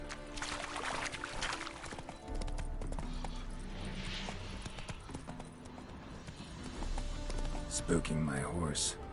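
Rhythmic clip-clop of a spooked horse's hooves in a PS4 video game, over a steady low rumble, with a voice talking over it near the end.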